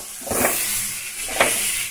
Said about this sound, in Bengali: তো সুন্দর করে দেখো মশলাটা এবার আমি কষিয়ে নিচ্ছি।